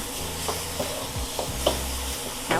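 Vegetables with broccoli stir-fried in a wok in a small home kitchen, a soft steady sizzle with scraping stirs and a few clanks of the utensil against the pan, close and moderately loud, with no talking.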